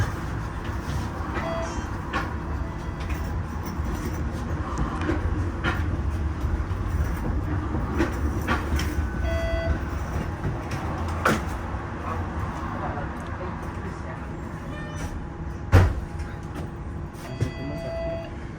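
Aboard the 512 St. Clair streetcar in Toronto, a steady rolling rumble fills the cabin with occasional clunks and a sharp knock near the end, while people talk intermittently over the ride.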